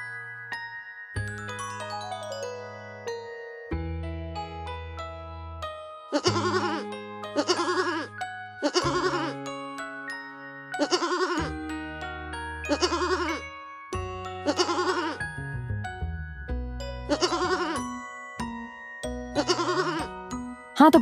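Goat-like bleats repeat over cheerful background music, several short wavering cries clearly audible.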